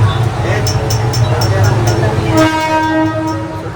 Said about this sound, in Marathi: सुटली ट्रेन आपली